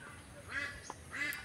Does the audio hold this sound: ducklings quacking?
yes